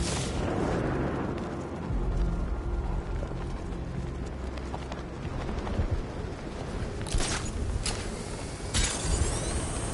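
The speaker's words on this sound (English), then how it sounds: "The bat died in that explosion." A rumbling, blast-like video game explosion in Batman: Arkham Knight, with debris and crackling filling the clip, followed by sharp bursts near the end, dense and loud throughout.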